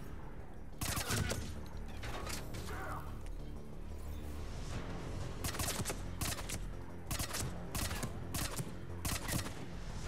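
Gunfire in the video game Mass Effect 3: a rapid fusillade of sharp shots in repeated bursts over a busy combat soundscape, loud and close throughout.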